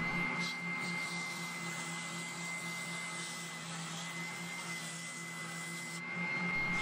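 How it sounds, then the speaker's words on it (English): An angle grinder fitted with rasps, then a sander, carves a custom T-type guitar body, producing a continuous whining motor drone with a steady tone and no pauses. "there are lots of carving, uh, an angle grinder with rasps and then a sander to make it nice and smooth"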